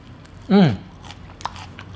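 A single loud crunchy bite into fried battered lotus root, brief and close, followed by quiet background room noise.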